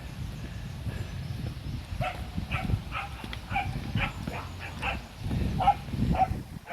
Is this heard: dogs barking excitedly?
yes